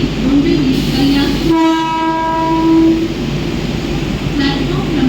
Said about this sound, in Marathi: local arrive on platform number 3 is 10:19 local for Ambernath